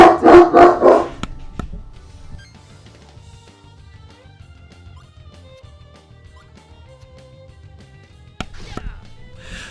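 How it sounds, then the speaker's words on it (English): A dog barks in rapid bursts nearby at the start, with a single fainter bark later, all behind a quiet background during gameplay. "Pardon my dog in the background."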